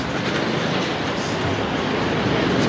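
A passenger train runs along a railway line in Thailand, a loud, continuous close rumble of wheels and cars with faint clickety-clack throughout.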